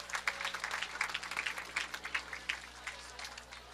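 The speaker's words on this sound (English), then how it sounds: "Let's give them one last round of applause before this competition ends." Scattered crowd applause at a college bowling championship in a bowling alley, uneven claps with a low hum beneath, moderately faint and fairly distant.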